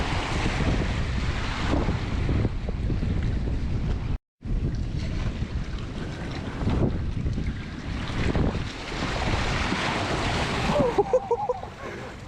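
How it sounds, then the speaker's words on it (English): Waves of the North Sea surge and wash around rocks below a coastal pinnacle in Scotland, with strong wind buffeting the microphone throughout, a brief dropout near the middle and a few splashy bursts toward the end. "the waves is just rocking up, flowing around"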